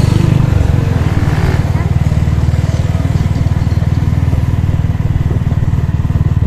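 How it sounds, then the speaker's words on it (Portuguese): A motorcycle engine runs close and loud, its rapid idling pulse thrumming steadily with a brief rev near the start. "Vamos dar uma acelerada."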